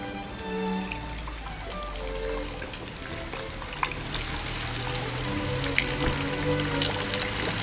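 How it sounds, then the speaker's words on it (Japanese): Water from a turtle fountain at Aoumi Shrine in Kamo, Niigata, patters and splashes steadily, a continuous trickling spatter with occasional sharper drips, close by. "この青海神社に寄進したのがこちらの亀の噴水でございます。"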